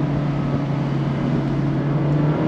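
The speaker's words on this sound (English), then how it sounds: "On the brakes, heel toe downshift." Mazda MX-5 Miata engine droning steadily under braking with a heel-toe downshift, a constant close in-cabin hum with a slight swell toward the end and no voices.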